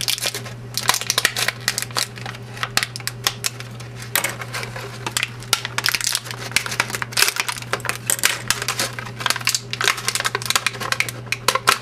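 Ranger Key figures being popped out of their plastic bubble packaging: rapid, close crackling and clicking of stiff plastic, continuous crinkles and snaps with a faint steady hum underneath.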